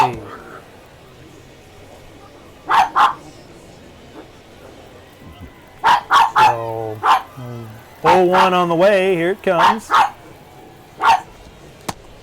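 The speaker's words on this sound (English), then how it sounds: "Dogs, be quiet." Dogs bark in short, loud bursts in a home during a radio broadcast of an Angels vs Mariners spring training baseball game, several barks scattered across the stretch while someone talks over them.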